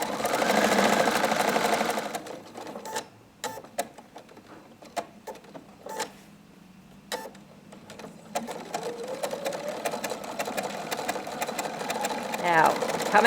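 A sewing machine stitching appliqué runs in several bursts: a loud opening run, short starts and stops with pauses, then a longer steady stretch. A person talks over parts of it.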